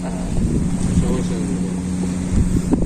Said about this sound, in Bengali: আপনাদের এই যে সাইডে যে এই যে ট্রলারটা আছে